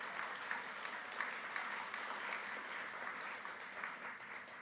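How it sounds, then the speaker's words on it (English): A live audience at a CreativeMornings New York breakfast talk applauds event partners, a steady, dense patter of many hands clapping throughout, fairly close and without a break. "Let's give them a round of applause"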